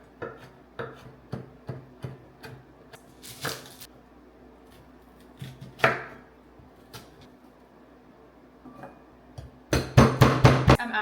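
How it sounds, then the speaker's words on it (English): A knife chops vegetables on a cutting board in a home kitchen meal prep, a steady series of close, crisp taps with short pauses, ending in a quick burst of rapid chops. "So I'm just gonna cut up all the little veggies."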